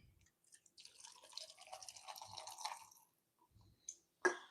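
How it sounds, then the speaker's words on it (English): Waterloo sparkling water is poured, a faint fizzing, crackling trickle lasting a couple of seconds followed by a few soft drips and a sharp click, with no talking. "Got me a little Waterloo sparkling water that I'll put in there."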